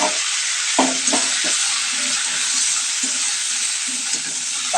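Okra frying in a pan with salt, a steady broadband sizzle running throughout while a utensil stirs it in a few soft scrapes and knocks.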